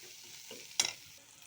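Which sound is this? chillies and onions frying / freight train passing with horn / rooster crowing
chillies and onions frying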